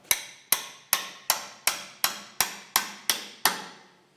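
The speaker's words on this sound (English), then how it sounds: "beat the wrench there with a hammer." A hammer strikes a wrench ten times in a steady, evenly spaced rhythm to loosen a nut on a Fendt 718 tractor's front axle, each blow a sharp ringing clank close by that fades quickly.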